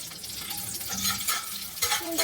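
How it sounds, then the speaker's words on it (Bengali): Bay leaves and dried red chillies frying in hot oil for vegetarian khichuri, with a steady crackling sizzle and a few stirring scrapes of a spoon in the pan. "তেজপাতা দিয়ে একটু নাড়াচাড়া করবো এবার দেখুন এর মধ্যে দিয়ে দেবো শুকনো লঙ্কা"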